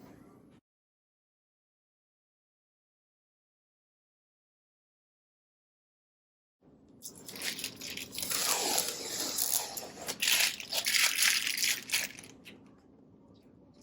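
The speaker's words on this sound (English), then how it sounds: "Let's remove the plastic and put on the stands." Plastic protective wrap being peeled off a TCL Roku 43-inch 4K TV, a loud continuous crinkling and tearing that starts after a long silence and runs to the end.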